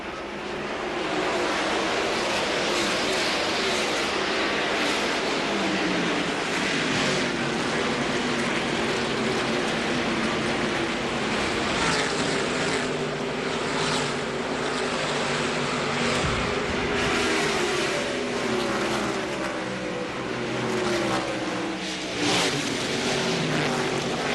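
Race trucks from the 1999 NASCAR Craftsman Truck Series thunder around an oval during the Chevy Trucks 150, making a dense, unbroken roar of many engines at close range for the whole stretch.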